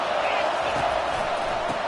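Steady roar of a stadium crowd in the American football game Madden 23, an unbroken wash of noise held at the same level from start to finish.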